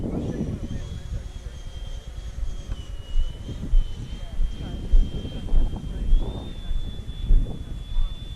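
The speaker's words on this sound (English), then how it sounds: "Chris, I'm gonna come back to land from the left." Freewing F-22 Raptor RC jet on approach to land with a low battery, a steady ducted-fan whine droning throughout under bursts of wind buffeting the microphone, with people talking nearby.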